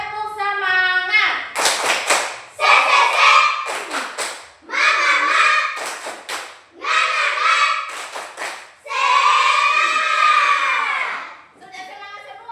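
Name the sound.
children doing a rhythmic spirit clap (tepuk semangat)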